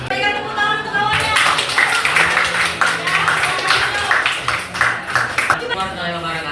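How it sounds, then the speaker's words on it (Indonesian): Classroom applause from students for a classmate, dense clapping filling the whole stretch while children talk and call out over it. "Berikan tepuk tangan untuk kawannya."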